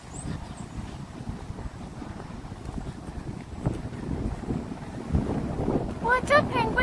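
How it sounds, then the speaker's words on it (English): Wind buffeting a microphone outdoors on a spring day in Washington DC among the cherry blossoms, uneven low rumbling gusts that grow stronger toward the end, with faint bird chirps at the close. "it's so windy. How bad is the wind sound for you guys?"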